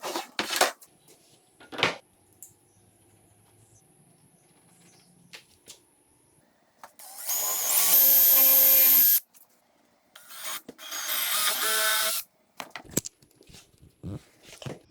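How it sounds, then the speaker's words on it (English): A Forstner bit drilling into a wooden tabletop at a breadboard dovetail joint: two loud sustained bursts of whirring, cutting noise, each a couple of seconds long, between quieter workshop knocks and handling sounds. "what I'm going to do is take a Forstner bit and drill about right here."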